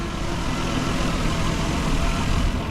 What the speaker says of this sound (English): It should probably still be on cold start a little bit, which usually idles a bit higher.